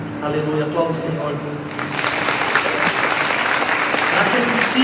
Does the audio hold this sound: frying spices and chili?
no